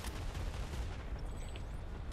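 Faint, dense gunfire crackles continuously from a Planetside 2 battle, distant-sounding bursts blending into a steady low rumble with no voices.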